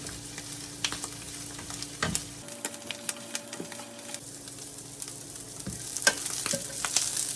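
Quartered Brussels sprouts caramelizing in a pan, a steady soft sizzle broken by sharp clicks and scrapes of stirring, with the frying growing brighter toward the end.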